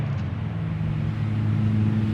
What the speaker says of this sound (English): You hear the cars running in the background.